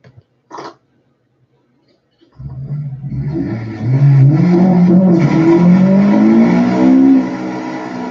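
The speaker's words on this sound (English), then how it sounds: "Acura RSX full bolt on burnout." An Acura RSX with full bolt-on modifications doing a burnout: after a couple of brief knocks and a pause, the engine roars up loudly and holds a high, wavering rev for several seconds.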